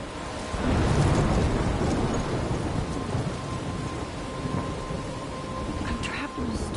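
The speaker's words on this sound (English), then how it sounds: "I'm trapped in a storm?" A thunderstorm in the video game Life Is Strange: a heavy, steady roar of rain with a deep rumble of thunder swelling near the start, loud and continuous throughout.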